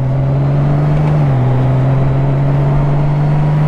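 A 2020 Honda Goldwing's 1800cc engine, running an automatic gearbox, holds a steady loud hum close to the microphone, dipping slightly in pitch as it shifts before settling again, with no talk over it.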